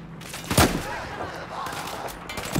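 Gunfire in Battlefield 4 cracks out in a couple of sharp, fairly close shots amid a continuous battlefield rumble, with faint distant firing between them.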